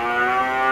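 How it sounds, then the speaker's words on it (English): A cow lows in a small Himalayan village, one sustained, loud, close moo with a strained, unhappy tone that fills the moment without any talk. "the unhappy cow"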